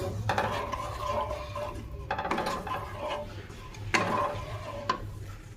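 A spoon stirs spiced oil and water in a metal pan on the stove while cooking a Bengali potato curry, with soft repeated scraping and clinks under a steady low kitchen hum.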